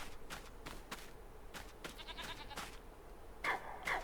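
Goat bleating in the farming video game Farming Simulator 25, a couple of short nasal bleats near the end over faint ambient rustling and brief clicks, quiet and close.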